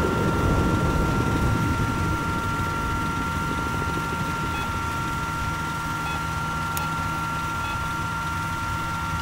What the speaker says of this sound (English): Eyes on an enemy helicopter.